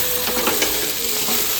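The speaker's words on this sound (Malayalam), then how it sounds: "നമുക്ക് ഇതൊന്നും കൂടി ഒന്ന് സോട്ട് ചെയ്തെടുക്കാം" Onions and tomato sauté in a hot pan for a Kerala-style beef curry, with a steady, loud sizzle and the scrape of stirring throughout.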